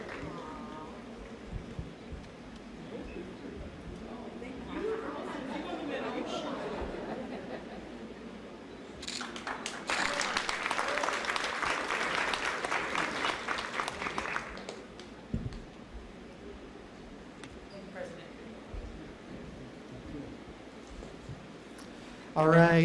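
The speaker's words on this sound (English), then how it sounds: "let's give another big round of applause to all of our honorees" A burst of audience applause for honorees at a community beautification conference, a roughly five-second stretch of dense clapping amid background chatter and room noise, with talking before and after.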